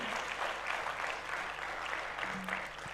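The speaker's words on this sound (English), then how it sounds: "Keep clapping for him." An audience at the University of Ghana Business School's 42nd Management Day celebration keeps clapping for a speaker, a thick, even wash of many hands sustained for the full stretch without pause.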